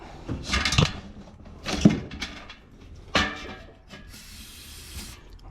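Aerosol spray can hissing in several short bursts with pauses between, close and fairly loud, ending in a longer steady spray.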